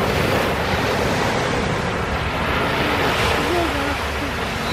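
Big ocean waves crash and surge continuously at Laguna Beach, a loud steady roar of surf with wind buffeting the microphone throughout.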